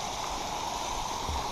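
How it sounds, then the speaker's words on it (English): A waterfall on Cascade Brook pours steadily along a mountain trail, a dense continuous rush of water that stays even and close with no voices over it. "Nice waterfall."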